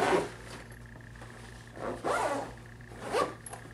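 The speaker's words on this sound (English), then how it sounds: "you can go ahead and zip up the front side of the speaker bag" A zipper pulled closed in a few quick strokes on the front of a portable speaker bag, soft rasping bursts separated by brief pauses, close and fairly quiet.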